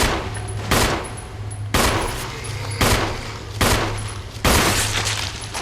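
Pistol shots in the game Resident Evil, five or six loud sharp cracks at roughly one-second intervals, each trailing into a decaying echo over a low steady drone.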